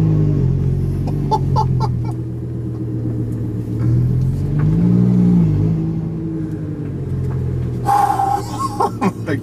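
Armytrix-exhausted Lamborghini supercar with its exhaust valves open, idling and blipping in a deep, loud, close rumble that swells briefly as the engine revs, staying steady throughout.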